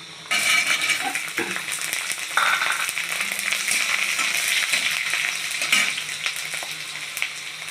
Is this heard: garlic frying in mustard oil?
yes